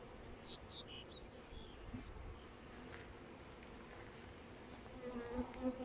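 Honeybees hum and buzz steadily around beehives as they are opened and inspected, a dense close-up drone with individual bees zipping past louder, and faint human movement in the background.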